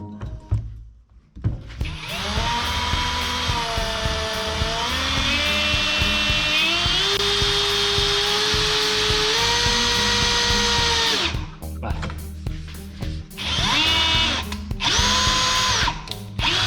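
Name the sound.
cordless drill in screw mode driving a screw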